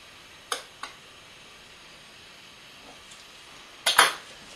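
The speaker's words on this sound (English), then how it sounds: "I use a pizza cutter" A pizza cutter rolls through Italian bread dough about an inch thick, giving two soft clicks early on and then a louder double scrape near the end, against a quiet background.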